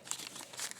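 Paper crinkling and rustling as banknotes are pulled from a paper budget envelope, soft and close, with continuous light crackling and small bursts for under a second, no talk.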